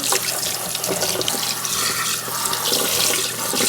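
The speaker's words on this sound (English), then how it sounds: "I'm just going to rinse them off now with some water." Running tap water rinsing freshly dyed clothes after boiling in Rit fabric dye, a steady loud splashing hiss with fabric swishing in the stream, close and continuous with no talking.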